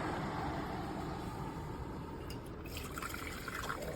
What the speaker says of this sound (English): Pour into my French press here.